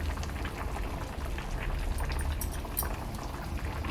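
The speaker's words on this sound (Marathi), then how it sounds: "2 ते 3 मिनिटांनी चिचवणीला चांगला उकाळा आलेला आहे" Tamarind dry fish curry (chinchvani with dried fish) boiling hard in a pot, a steady dense bubbling and popping close by throughout, with no voices.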